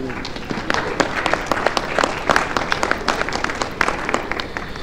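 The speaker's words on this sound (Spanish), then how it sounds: "Les damos un aplauso, por favor, a nuestros invitados" Audience at a technical panel on public finances applauding the guests, a room of many hands clapping with distinct sharp claps standing out above a steady patter.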